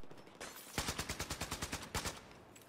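AN-94 assault rifle in Battlefield 4, a Russian 5.45x39 mm weapon, firing a rapid burst of about ten evenly spaced shots followed by one or two more cracks, loud and close with no talk.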